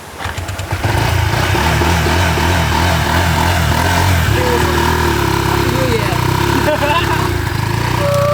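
A motorcycle with no kickstarter sputters and catches after being rolled to start, then settles into a loud, close, steady engine drone with a throbbing idle rhythm, while people talk over it.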